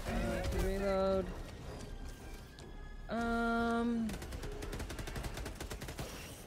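Rapid machine gun fire in Helldivers 2 rattles in loud bursts, mixed with tonal game sounds and voices talking over the action.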